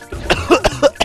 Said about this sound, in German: Das war gerade ein Husten, den habe ich gleich mal rausgelassen.